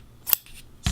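Scissors snip through knitting yarn in a quick, close, crisp cut, followed by a second short snip, with no talking.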